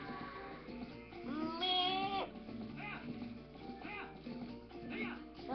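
Goats bleat repeatedly in The Legend of Zelda: Twilight Princess, with several wavering calls in a row, one long loud bleat near the middle, over steady game background sound.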